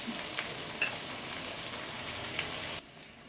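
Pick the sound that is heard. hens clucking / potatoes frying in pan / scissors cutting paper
potatoes frying in pan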